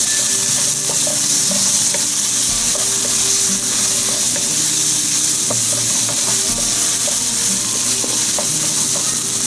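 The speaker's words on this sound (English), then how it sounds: "we'll add the ginger garlic paste. So it's 1 tablespoon of ginger garlic paste. We'll mix this together." Ginger garlic paste is stirred and fried in a pan for Mughlai paratha, a loud, continuous close-up sizzle with light scraping and tapping of the spoon throughout.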